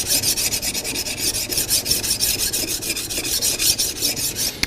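Sharpening stone rubbed back and forth along the bevel of a drawknife blade, a fast, even rhythm of gritty scraping strokes, close up and steady with no talking.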